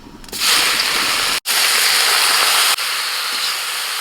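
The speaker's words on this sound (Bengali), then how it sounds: "কড়াইতে সামান্য তেল দিয়েছি এখন মাশরুমগুলো হালকা করে একটুখানি ভেজে নেবো" Loud, continuous sizzling and crackling of mushrooms frying in a little oil in a wok, with a brief break in the hiss partway through.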